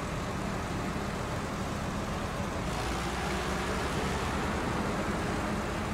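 A truck engine drones steadily in the Snowrunner video game as it pulls a trailer up a big hill in a flooded delivery area. The loud, dense rumble holds without a break for the whole stretch.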